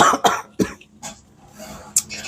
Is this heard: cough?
yes